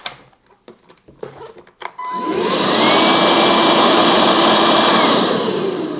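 A Bosch Serie 2 Readyy'y 20V max cordless stick vacuum clicks a few times, then switches on and runs with a loud, steady whirring motor drone that holds level to the end.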